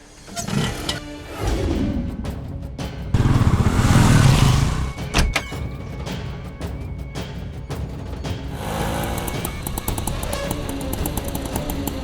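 A motorcycle engine rumbles and revs, with bursts of acceleration and thumping road noise as it rides past close by.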